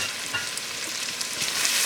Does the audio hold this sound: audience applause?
no